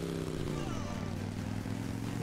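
A motorcycle engine in the video game Hill Climb Racing 2 drones with a steady, buzzing hum that shifts pitch as it revs, while a voice talks over it.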